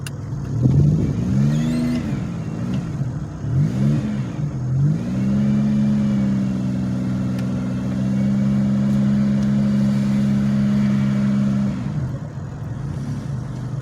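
A 2007 Pontiac Grand Prix GT straining in first gear, its engine droning loud and close, rising and dipping through several uneven revs before holding a steady strained note, then easing off near the end.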